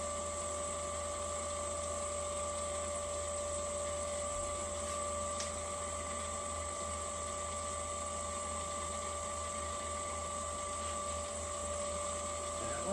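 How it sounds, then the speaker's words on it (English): A buffing wheel polishing a turned fountain pen nib section spins with a steady, high, tonal motor whine and a continuous whir, close and unbroken throughout, with no one talking. "It doesn't take long to go through the various steps of this polish, especially when it's such a small item that you're polishing."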